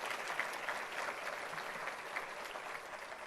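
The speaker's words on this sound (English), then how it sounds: "Can we please give a warm round of applause to Oscar?" Steady audience applause at a community address event, a dense wash of clapping holding at an even level throughout, fairly distant and without speech.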